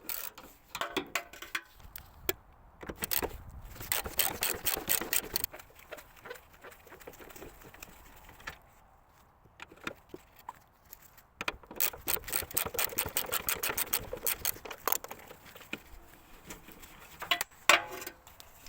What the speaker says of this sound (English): to get to the rear left hanger bolts, I'm using a long reach 30mm socket